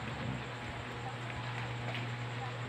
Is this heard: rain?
yes